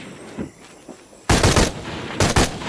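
Gunshots fired at a metal grate in Shadow of the Tomb Raider: faint ambience first, then two loud, close bursts of rapid shots separated by a short pause.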